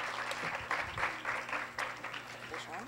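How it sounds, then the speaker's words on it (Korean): Faint applause rises and falls at a Korean foreign-ministry talk concert honouring two ambassadors, heard at a distance under a speaking voice and low room hum. "두 분 대사님께 다시 한번 박수를"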